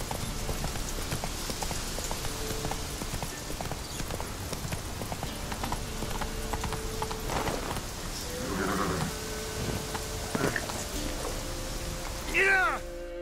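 Hooves of Roach, a horse in The Witcher 3 (Heart of Stone), pound steadily in clip-clop rhythm at a gallop amid game ambience, with a brief whinny-like sound near the end.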